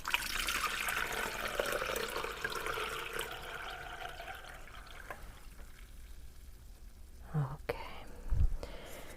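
Hibiscus kombucha is poured from a large batch, giving a steady, soft liquid stream that fades out, followed by a few faint clinks and bumps of glassware nearby.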